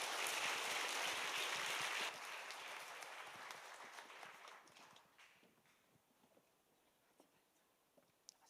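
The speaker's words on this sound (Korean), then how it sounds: "큰 박수로 격려해 주시면 감사하겠습니다" Applause from a church congregation for a family choir at a family hymn festival, loud and dense at first, then thinning out and fading over several seconds into scattered claps.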